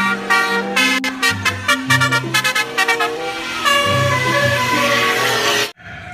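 A toy bus plays a loud, melodic telolet horn in a series of short tooting notes, then longer sustained tones that stop abruptly.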